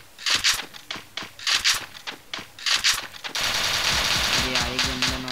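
Counter-Strike gunfire comes in rapid automatic bursts, several sharp volleys spaced by short pauses, then gives way to a denser stretch of continuous in-game shooting and effects.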